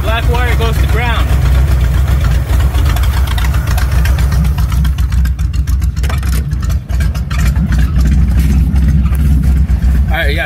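A 1965 Chevy Corvair engine fitted with electronic ignition idles nearby with a steady low, slightly uneven rumble, while someone talks over it.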